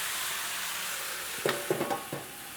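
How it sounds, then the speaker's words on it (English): Quiet background hiss, then a few short bursts of sizzling and crackle from meat in a hot pan about halfway through, close by and fairly soft. "I hear it sizzling, Ron."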